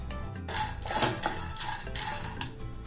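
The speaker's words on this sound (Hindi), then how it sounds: "गैस पर मैंने एक कढ़ाई रख दी है, उसमें डाल देंगे मूंगफली के दाने" Peanuts tipped into a kadhai on a gas stove, a quick rattling clatter of nuts against the metal with some clinking, close and fairly steady for a few seconds, no talking.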